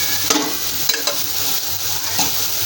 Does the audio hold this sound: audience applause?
no